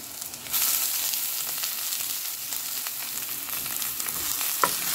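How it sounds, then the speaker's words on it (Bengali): Shrimp frying in a pan with onion, coriander, turmeric, chilli powder and salt for a Bengali chayote dish, a loud continuous sizzle with stirring scrapes and a sharp clack near the end. "মশলা পেঁয়াজের সাথে মাছটাকে একটু ভেজে নেব, ভেজে মশলাটা কষিয়ে নেব।"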